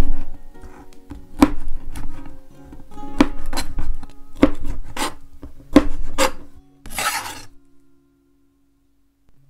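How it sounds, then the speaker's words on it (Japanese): A knife dices boiled shrimp on a cutting board in about nine crisp, close chops at an uneven pace, followed by a brief scraping sweep and then silence. "これも角切りにします。"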